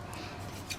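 Scissors cut index paper in a quiet room, two faint, quick snips set apart by a short pause.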